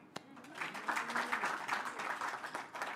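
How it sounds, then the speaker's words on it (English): Applause from a room of guests at a Women's Day office launch event in Kigali, a steady mass of overlapping claps rising and holding for a few seconds, with voices mixed in underneath. "All the ladies in the room, we should really applaud you"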